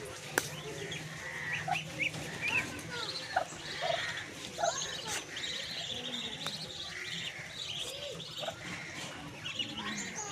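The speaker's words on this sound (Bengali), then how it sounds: "চীনা হাঁসের বাচ্চাগুলোর বয়স 15 দিন হয়েছে, এখন পর্যন্ত বাচ্চার মাকে সাথে রাখছি" Muscovy ducks with their 15-day-old ducklings on a farm in Assam give a steady mix of high peeping and chirping calls with occasional sharper squawks, moderately close over a low background hum.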